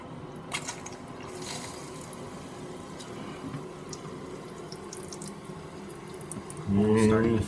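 Water rushes into a toilet tank through a newly installed fill valve, a steady low hiss and gurgle close by that swells louder near the end as the flow picks up.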